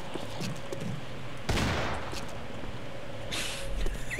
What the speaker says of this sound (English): he's got like an infinite ammo gun!